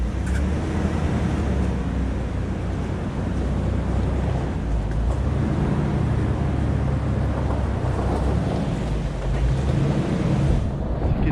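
A wrecked Jeep rolls backward out of its spot on its first drive after the crash, its engine giving a steady, loud low rumble with wind-like noise throughout and no talking.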